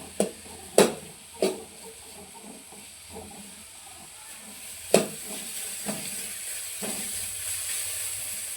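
Okra sautéed with curry leaves in a pan gives off a steady soft hiss, broken by a few sharp spatula clacks early on and another near the middle. No voices.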